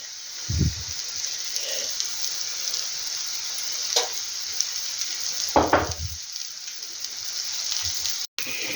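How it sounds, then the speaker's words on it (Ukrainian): Eggplant slices frying in oil in a pan, a steady close sizzle throughout with a few soft scrapes and clatters as the slices are turned. "Бачу, що з однієї сторони вже обсмажився і тепер от перевертаю на другу"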